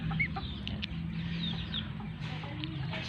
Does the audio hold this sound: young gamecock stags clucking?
yes